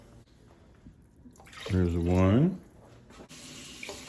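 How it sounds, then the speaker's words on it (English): Tap water runs into a pot for an autumnal pasta dish, rising into a strong, steady fill for about a second before stopping; a person speaks briefly over it. "And then 3 cups of water."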